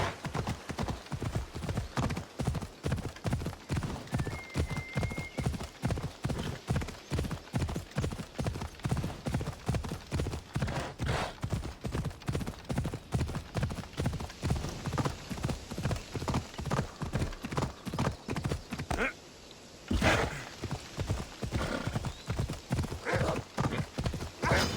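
Horse hooves clip-clop in a steady, rhythmic gait while riding in Assassin's Creed Odyssey, with brief whinnies mixed in and a short pause near the end before the hoofbeats resume.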